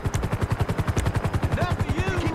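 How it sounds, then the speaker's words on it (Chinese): A helicopter in the video game GTA 5 beats overhead with a rapid, even rotor thump, and gunfire and other in-game effects join in toward the end. "连直升机都派过来"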